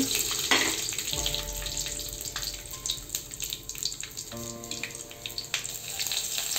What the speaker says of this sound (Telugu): ఇప్పుడు మనం జీలకర్ర వేసుకుందాం, ఆవాలు, మెంతులు